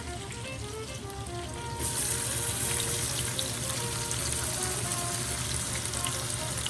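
Chopped Cajun trinity vegetables hit hot rendered pork fat in a pot, giving a loud, steady frying sizzle that jumps in intensity partway through and continues alone with no talk.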